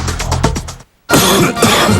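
Two harsh coughs, close and loud, separated by a brief silent pause, the second fit longer and raspier than the first.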